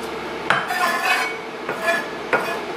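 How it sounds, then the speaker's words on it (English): A knife cuts the ends off a peeled red onion, making three crisp, separate chops on a board with quiet handling noise between them. "take both ends off."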